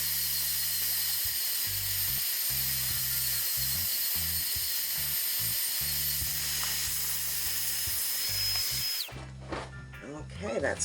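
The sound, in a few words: Dremel rotary tool sanding resin tray edge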